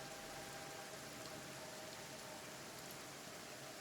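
Steady rain falling in the video game Kenshi, a dense, even hiss of drops that holds unchanged throughout with no talk over it.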